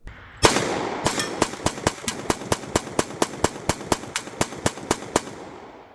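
Springfield Echelon pistol fired rapidly, about twenty sharp shots in an even, quick rhythm over a few seconds, close and loud with a short echo after each.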